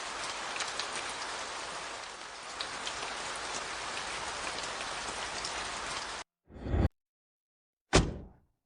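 Steady rain pours down in a dense, even hiss for several seconds, then cuts off abruptly, followed by two short bursts of rain noise separated by silence.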